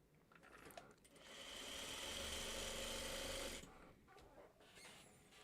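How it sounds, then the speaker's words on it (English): A sewing machine stitches fabric strips for a string quilt block. A short, quiet start gives way to a sustained, close whirring run of about two and a half seconds, then stops and leaves light handling noises. "tonight I'm just going to sew it"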